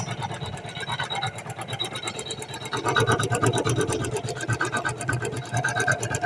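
An embroidery sewing machine stitching a design in a hoop frame, a fast, even mechanical whir with a rapid needle pulse and a steady motor hum, close and continuous, with no talking.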